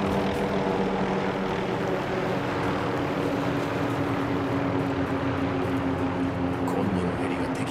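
A helicopter in Call of Duty: Modern Warfare 3 holds a steady, loud engine and rotor drone throughout, a continuous mechanical roar with a low hum underneath.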